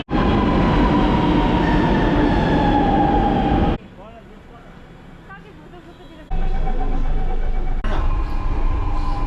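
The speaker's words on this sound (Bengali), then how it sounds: "চারবাগ যে মেট্রো স্টেশন, সেই মেট্রো স্টেশনে এসেছি।" Metro train at Charbagh metro station in Lucknow, a loud rumbling roar with a high whine that drops away to quiet for a few seconds before the heavy rolling noise returns.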